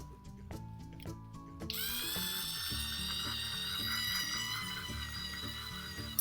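A cheap battery-powered motorized facial cleansing brush, run on two AA batteries, whirs with a steady high-pitched buzz that starts abruptly after some handling clicks and continues alone, close and fairly loud.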